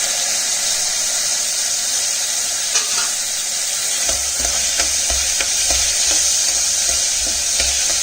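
Onions and peas sauté in a pan with a loud, dense sizzle and hiss. Repeated scraping strokes of a spoon stir through them, steadier in the second half.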